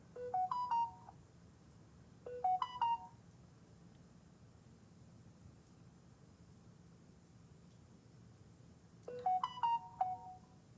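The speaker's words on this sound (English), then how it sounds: "I'm going to actually make a phone call" A phone call being placed: short bursts of dialing tones and beeps come in three clusters, the first two close together and the last after a long quiet pause with faint background hiss.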